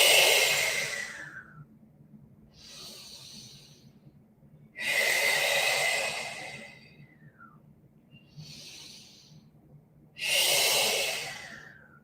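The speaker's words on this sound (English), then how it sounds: "Open, inhale, and then exhale." Three deep, loud breaths during a core fitness workout, each a long, airy exhale through the mouth, separated by quieter inhales, in a slow and even rhythm with no talking.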